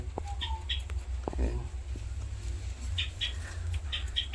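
Budgerigar chicks and their parents in a home aviary room give faint, scattered high chirps and squeaks over a steady low background hum.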